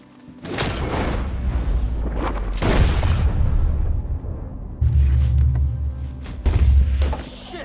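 Heavy gunshots in Red Dead Redemption II, several deep booming blasts spaced a couple of seconds apart, loud and close with long rumbling tails.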